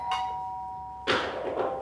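A doorbell rings indoors with a steady sustained electronic tone, followed by a sudden louder clattering burst of noise.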